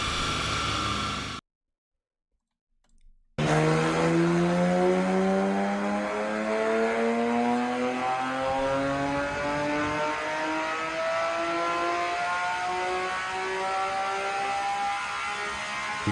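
A Porsche 997 911 GT engine revs hard after a brief silence, its pitch sweeping upward in a long, loud, sustained rise that holds at high revs. No one speaks over it.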